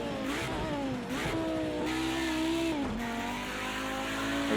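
Audi Group B Quattro turbo engine in the Project Cars 2 racing game at Bathurst, loud and close as it revs through gear changes with rising and falling pitch and a brief lift between shifts, no talking.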